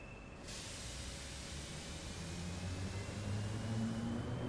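A train pulls away from a station on the Leipzig–Riesa route in Train Simulator Classic, with a steady broadband rumble and hiss and faint tonal hums that build slightly as it gathers speed.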